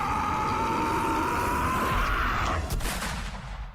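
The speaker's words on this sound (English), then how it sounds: "That gunshot sound." An anime gunshot sound effect: a loud, sustained rumbling roar with a ringing tone, ending in a sharp impact burst that fades out.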